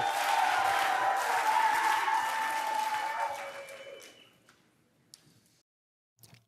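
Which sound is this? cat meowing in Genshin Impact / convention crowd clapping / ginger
convention crowd clapping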